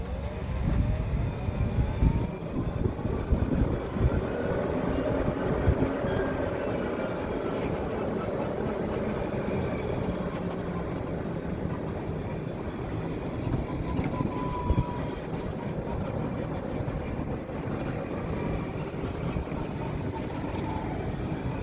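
A charcoal 2021 EZGO RXV golf cart drives along with a continuous rolling rumble and a rising and falling electric motor whine, close by and steady, with no voices.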